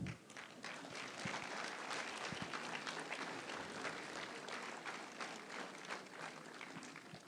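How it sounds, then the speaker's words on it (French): Crowd clapping at a civic New Year's wishes ceremony, continuous applause with a few sharper individual claps standing out, heard at low level and fading slightly toward the end. "Je t'en prie Bruno, on va t'applaudir aussi."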